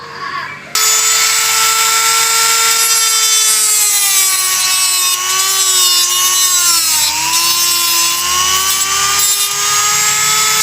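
An electric drill works through metal while a lighter is being made, giving a loud, steady, high whine that runs almost unbroken for about ten seconds, its pitch sagging now and then as the bit bears down.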